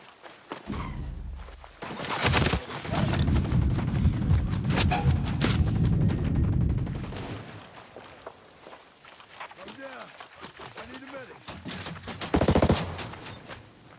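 Bursts of automatic rifle fire and single shots ring out in the tactical shooter Ghost Recon Breakpoint, some close and sharp, others farther off, alongside footsteps while players talk over the action.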